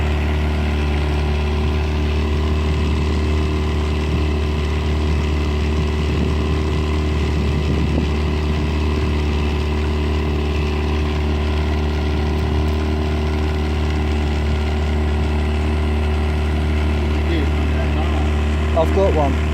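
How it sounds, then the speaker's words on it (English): An outboard motor runs on a sailing yacht on a fast-moving tide, giving a steady, loud droning hum with a constant low tone throughout, with faint clicking and rattling mechanical noises layered over it. "Here's my outboard."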